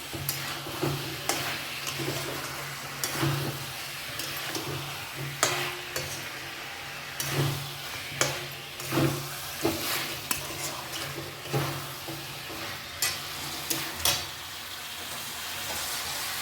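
Masala stir-fried with eggs in a pan for a chicken dak bungalow curry, with a continuous close sizzle and regular scraping stirs of a spatula against the pan, no speech.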